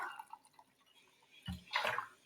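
Vinegar splashes and trickles briefly into a jar over an egg, with a soft pour and a few drips after a quiet start.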